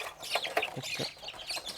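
Native country chickens of pure local stock, black-feathered but not Kadaknath, cluck in several short bursts close by, with a voice speaking briefly among the calls.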